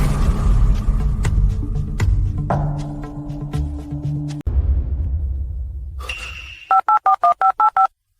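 A telephone number is dialed: after a rumbling stretch with scattered clicks, a rapid run of six crisp, evenly spaced keypad tones sounds alone near the end.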